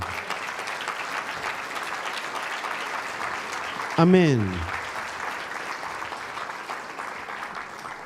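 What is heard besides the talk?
congregation applause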